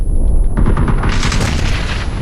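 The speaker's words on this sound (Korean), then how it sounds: "수류탄!" A grenade explodes in the battle-royale video game PUBG (Battlegrounds): a loud, close blast with a rumbling, crackling tail that fills the whole short moment.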